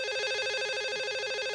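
A telephone rings in a live broadcast studio, a steady continuous electronic ring that is loud and clear, with no voices over it.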